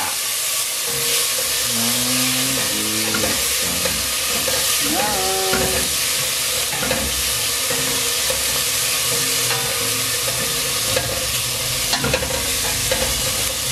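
Tomatoes sauté in a pan for a pochero stew, with a steady loud sizzle and hiss and repeated scraping as they are stirred, while faint voices sound in the background.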